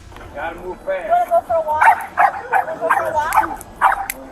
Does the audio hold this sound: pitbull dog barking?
yes